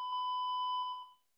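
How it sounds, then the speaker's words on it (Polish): A steady 1 kHz test tone from a signal generator plays through a TIDRADIO TD-H3 Plus handheld radio receiver, holding clean and even for about a second before fading out to silence. "mam nadzieję, że słychać 1 kHz"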